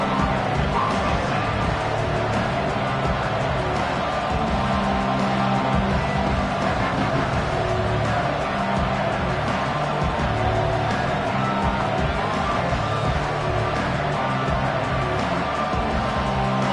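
A football stadium crowd at a Michigan versus Georgia game roars in a dense, continuous wash of cheering and noise that stays steady and loud throughout, with no distinct individual voices standing out.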